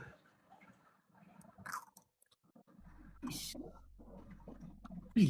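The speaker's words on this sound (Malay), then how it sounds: "Bila kau kunyah macam tu." Close, wet chewing of food with soft crunches and bites, coming in bursts between pauses, with a low rumble and light background noise.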